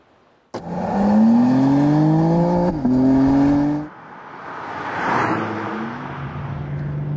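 A BMW M3 Competition with an eight-speed automatic revs up hard after a sudden start, its engine note climbing through two gears with a brief shift break, then easing off into a lower, steadier drone.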